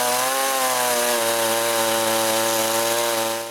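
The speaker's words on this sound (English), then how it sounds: "Then we just had to cut the top of each rafter so it could fit with its king post." Power saw cutting the top of a wooden rafter during timber shop framing, a loud steady droning whine held for a few seconds before trailing off, alone with no talk.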